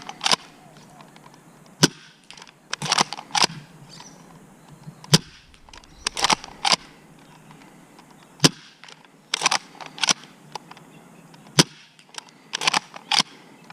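Nerf Cyclone Shock and Worker blasters firing foam darts, a series of sharp clicking snaps in irregular clusters with brief mechanical rattles between shots, fairly close.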